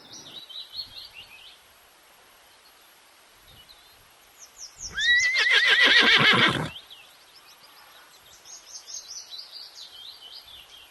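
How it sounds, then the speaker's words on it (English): A horse gives one loud, drawn-out whinny that rises and trembles, while birds chirp faintly around it. "H for horse."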